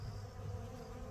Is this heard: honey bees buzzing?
yes